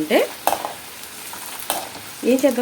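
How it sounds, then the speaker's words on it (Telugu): Tempering spices sizzle in hot oil for mango pulihora, with soft crackling and a few brief stirring scrapes over a quiet background. "తిరగమాత దినుసులు కూడా వేసేసాను. చూసారా ఎంత చక్కగా వేగుతుందో."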